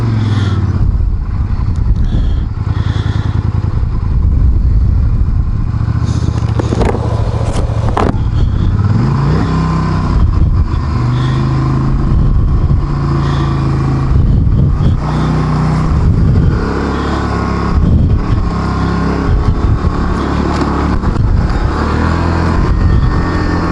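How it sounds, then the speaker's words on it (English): Several small pocket dirt bikes ridden by kids near a lake, a loud continuous buzzing engine drone that rises and shifts in pitch as the bikes pass close by, with no talking. "Here come a bunch of kids on their little pocket dirt bikes."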